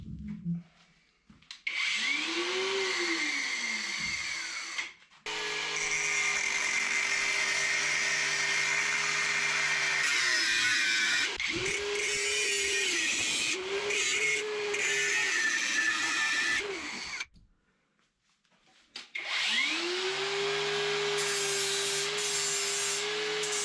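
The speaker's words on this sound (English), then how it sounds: "So I'm going to cut it really slightly and then grind it just a bit to make everything smooth." Power tool cutting and grinding a Range Rover L322 TD6 2004 air suspension part: a steady loud whine that rises and falls in pitch, with short breaks between passes, close by.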